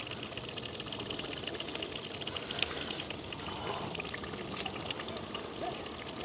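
Thick sweet thodhal cooking in oil in a village kitchen, a soft steady bubbling and gurgling with a faint high hiss and one sharp click, moderately quiet and without talk.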